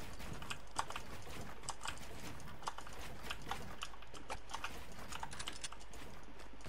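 Quiet, rapid clicking of a computer keyboard and mouse during gaming, light taps in an irregular stream close to the microphone, with no voices.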